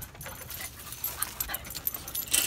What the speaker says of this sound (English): Every time you hear barking in my video, this is what you hear.